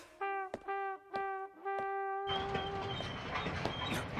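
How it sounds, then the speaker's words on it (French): A few short, tonal horn blasts, then a steady rolling rumble as a freight train passes nearby in the anime Gun x Sword. "Non, c'est un train de marchandises."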